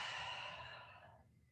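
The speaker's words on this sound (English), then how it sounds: "And exhale." A single long breath is let out during chair yoga, a soft airy sigh that fades away over a quiet room.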